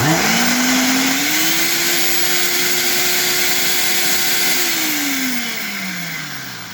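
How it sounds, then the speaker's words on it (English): A blender whirs through quinoa grits with milk, oil, salt and pepper, spinning up to a steady loud hum and then winding down near the end. "So we are just going to blend for a moment."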